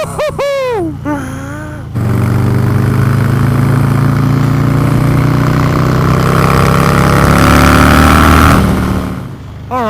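A Harley-Davidson Low Rider S with its 117 cubic inch V-twin rumbles loudly and close up, the steady throb climbing in pitch as it revs, after a few high whooping vocal cries at the start.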